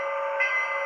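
A G scale model freight train, a 460 locomotive pulling five boxcars and a caboose, rolls down a 2.5% grade on the center track, giving off a steady, faint motor whine that swells slightly midway.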